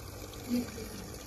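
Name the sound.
small model waterfall in a Kedarnath temple display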